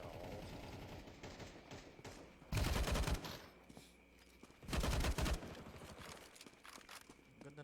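Gunfire in the game Counter-Strike, two loud bursts of rapid automatic shots about two seconds apart, each under a second long, over a busy background of game sounds.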